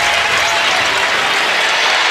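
Steady, full applause rolls through a basketball arena crowd at Gill Coliseum for Oregon State against the U.S.A. National Team, continuous and even throughout, with no distinct voices rising above it.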